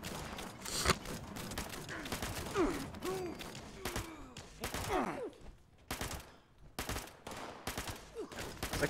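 Gunfire in Fallout 76, bursts of sharp shots and rapid volleys in irregular clusters, close and loud, with brief pauses between exchanges and faint voices mixed in.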